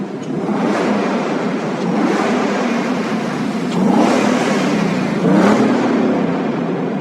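A Ford Mustang Mach 1 engine on its stock exhaust revs loudly and close by, rising in repeated swells of engine roar with no talk over it.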